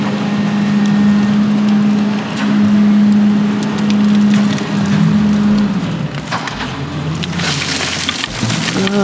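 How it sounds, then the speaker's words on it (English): Mr. Dunn's garbage truck picks up trash beside a home vegetable garden, its loud, steady engine drone running throughout with scattered knocks and rattling clatter from the pickup. "Dunn's truck has come to pick up trash"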